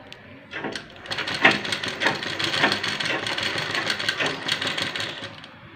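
A sewing machine runs steadily close by, stitching fabric along a square seam with a whirring, clattering motor. Stitching starts after a brief quiet moment and continues with no talk over it.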